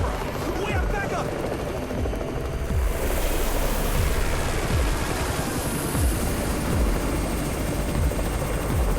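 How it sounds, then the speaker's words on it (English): A helicopter in the zombie video game Garena Undawn, its rotor thumping in a steady rhythmic beat over a loud roaring wash, close and continuous, with game voices and effects around it. "It's the Raven's chopper!"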